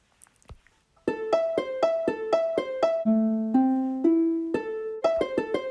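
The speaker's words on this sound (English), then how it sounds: "That was the sound of a harp" Synthesized harp arpeggio in Chrome Music Lab, a few soft clicks followed by a steady rising-and-falling pattern of plucked notes, moving through several chords at a moderate tempo, clear and close.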